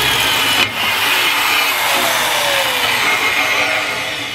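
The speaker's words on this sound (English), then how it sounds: "This is our Electalfra MBS PRO Holesaw." An Electalfra MBS PRO TCT holesaw cuts through 10 gauge stainless steel, giving a loud, steady motor drone with a grinding edge that holds for several seconds, close to the microphone and without talk.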